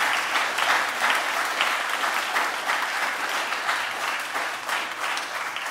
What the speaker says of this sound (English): So give a round of applause to our proud lions.